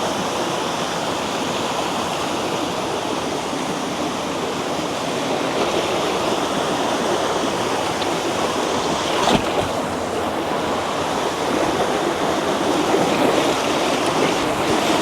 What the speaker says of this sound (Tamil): அருமையாக தண்ணி விழுதுங்க.